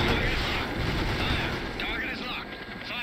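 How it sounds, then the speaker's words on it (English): A dense, loud wash of gunfire and rumbling explosions from the real-time strategy game World in Conflict, continuous throughout, with voices talking over the battle noise. "They're shooting and moving into position!"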